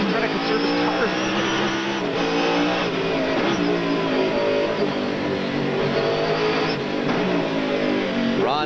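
Trans Am race cars, Ron Fellows' Roush Mustang among them, roar continuously in a 1991 Motor City 100 street race, engines revving and shifting under loud commentary that runs throughout.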